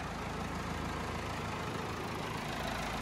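A low, steady four-cylinder turbo tractor engine idle rumbles continuously, close and even, with no other sounds.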